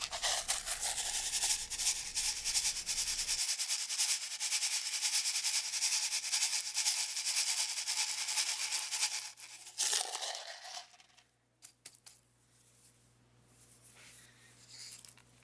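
Dry sand being poured and scraped around a tube set in a cup, a close continuous gritty hiss and rubbing that drops away near the end, leaving faint handling sounds and no talking.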